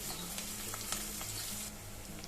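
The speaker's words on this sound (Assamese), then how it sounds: "ইয়াতে দিছোঁ আদা নহৰু পেষ্ট এচামুচ দি মই এইখিনিও ইয়াৰ লগত ভাজিম।" Sliced onions frying with a spoonful of ginger garlic paste in a cooking pot, a steady, close sizzle and crackle with no one talking.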